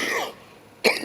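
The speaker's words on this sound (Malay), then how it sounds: "Batuk ni." A single close, loud cough bursts out near the end of a short pause in an Islamic religious lecture, with no speech around it.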